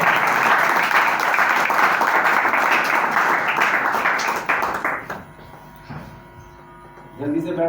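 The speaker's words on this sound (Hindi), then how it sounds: "एक दफा हम खुदावंत के लिए जोरदार तालियां दें।" Loud audience applause at a Christian worship gathering, dense clapping that fades out after about five seconds, followed by quieter sounds and a voice speaking.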